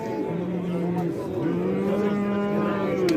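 A cow moos repeatedly at a busy livestock market in Özgön, its low drawn-out calls rising over steady crowd and yard noise, with people talking in the background.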